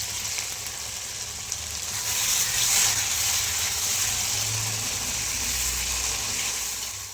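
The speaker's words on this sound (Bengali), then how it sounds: "তো বেশ ভালো করে কষিয়ে নিচ্ছি।" Meat with whole garlic cloves, turmeric and salt sautés in a pan, a steady close sizzle and hiss of frying that holds evenly throughout with no voices.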